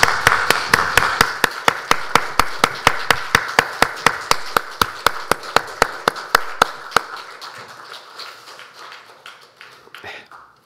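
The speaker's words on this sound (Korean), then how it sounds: "하나님께 영광의 박수를 올려드리겠습니다." A church congregation claps in unison at a Sunday worship service, a steady rhythm of sharp, loud claps that continues for about seven seconds, then fades into a few scattered claps and near quiet.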